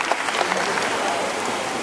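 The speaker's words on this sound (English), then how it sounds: "How about a loud round of applause for her?" A brief burst of audience clapping at a bird show in Singapore, dense and steady, with voices faintly mixed in.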